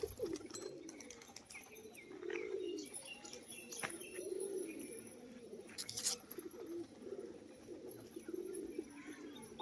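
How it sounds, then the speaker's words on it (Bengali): A pigeon coos repeatedly in soft rhythmic phrases, with brief bursts of wing flapping from a pigeon flying high, close and fairly quiet, no talk. "কতটা শীষে উঠছে দেখুন পায়রাটা"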